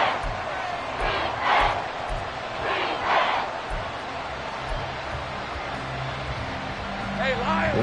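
Roaring stadium crowd in a Madden football video game on third and long, a loud continuous swell of cheering with bursts of shouting, heard under a commentator's talk.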